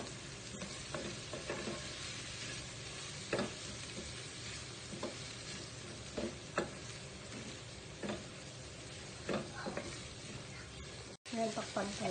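Sautéed bitter melon with ground beef is stirred in a pan, a utensil scraping and tapping at irregular moments over a low, continuous sizzle of frying, close and fairly quiet.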